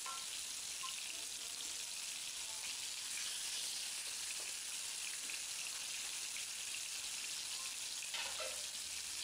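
Chicken leg pieces fry in a pan with steady, crackling oil, a dense continuous sizzle that stays even throughout with faint pops and no talking.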